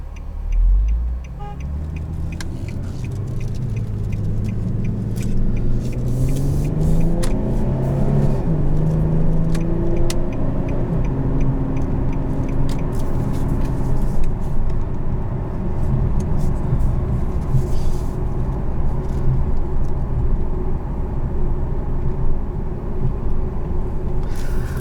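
A 2014 Infiniti Q60S convertible with about 27,000 miles accelerates through its gears on the road, engine note climbing and shifting several times, then settling into a steady cruising drone heard from inside the cabin.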